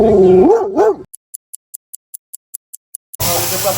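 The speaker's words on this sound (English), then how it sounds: "Big dog." A big dog barks and whines loudly up close at a tyre-fitting stop, followed by a quick run of short sharp clicks and then another burst of vocal noise.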